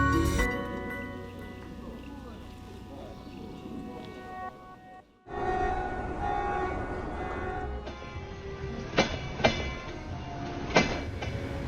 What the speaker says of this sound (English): This has to be the coolest train I've ever been on.